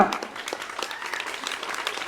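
A school audience claps at a book launch event in a hall, scattered applause in a brief moderate burst, fairly close.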